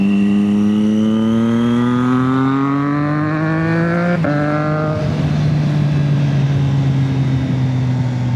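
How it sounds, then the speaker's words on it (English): A car engine revs up steadily in rising harmonic tones, then drops sharply with crackling exhaust pops and burbles as the throttle closes, loud and close. "this exhaust sounds so good"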